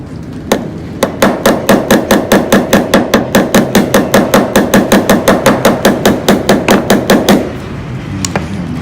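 A hammer taps out a dent during paintless dent removal, using a dent dolly and a polished 200-gram hammer: a fast, even run of about thirty sharp metallic taps, close and loud, ending abruptly with one last stray knock.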